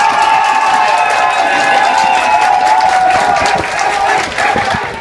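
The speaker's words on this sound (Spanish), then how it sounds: "Dejen solo aplausos." An audience at a televised show breaks into loud, sustained applause mixed with cheering and crowd noise, continuing for several seconds with slight swells.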